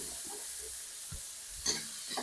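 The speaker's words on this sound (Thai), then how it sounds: "ผัดหมูให้สุก" Pork stir-frying in a hot pan gives a soft, steady sizzle with a few brief scraping stirs, low and unbroken, with no one speaking.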